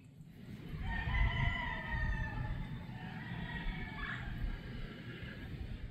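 Chickens cluck and a rooster crows twice at an outdoor hilltop fortress site, the crowing calls fairly clear over a low, steady background rumble, moderately distant.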